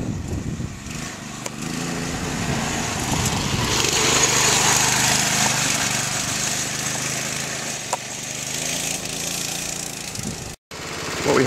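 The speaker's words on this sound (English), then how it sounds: "There goes the M1 A1 Urban Spud Assault Vehicle." A small motorized spud cart engine drones past, a steady mid-pitched motor hum rising toward the middle and then fading, heard without talk.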